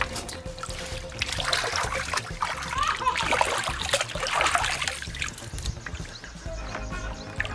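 Cut rau bò khai vegetables being washed by hand in water, with continuous close splashing and sloshing, and voices talking over it at times.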